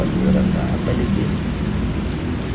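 Steady, dense rain falls during morning flooding in a street strewn with piled-up garbage near a bridge, a loud continuous wash of noise that fills the whole stretch without a break.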